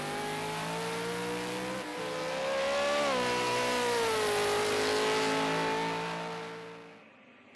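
V8 Ford race car at Bathurst, engine droning loudly and continuously up close, with a brief dip as it short-shifts into third before the revs climb again and fade slightly near the end.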